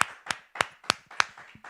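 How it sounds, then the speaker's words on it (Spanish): Sharp, evenly spaced claps ring out in a church, about six distinct beats in a slow steady rhythm, close and clear with no talking. "Sí, dele un aplauso. Yo le voy a dar un aplauso al Señor."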